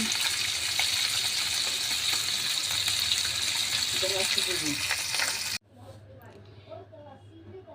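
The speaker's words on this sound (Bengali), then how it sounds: "মাছ ভাজা হয়ে গেছে" Bata fish frying in oil in a pan, with a steady, loud, broad sizzle lasting about five seconds before cutting off abruptly, followed by quieter room sound and faint talking.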